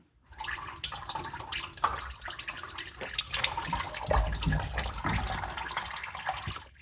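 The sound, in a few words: engine oil draining after removing oil filter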